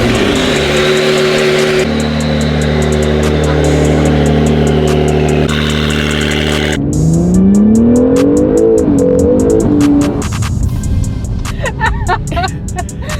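A Honda NSX sports car drives hard and slides, its engine loud and close with a steady drone, then a rising rev and a wavering pitch as it slips. People talk over it.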